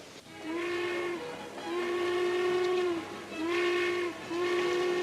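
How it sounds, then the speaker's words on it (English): A steam locomotive's whistle blows four long, loud, tonal blasts in a row as the train pulls out, with short gaps between the blasts. "The train just pulled out."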